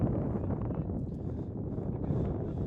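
Strong wind blowing across the football field at a Seattle Sounders FC vs. Sporting Kansas City match, a continuous low rumbling buffet of gusts battering the microphone with no voices.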